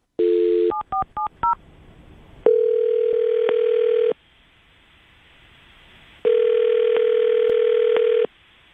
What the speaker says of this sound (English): I'm going to dial the phone and get your second date update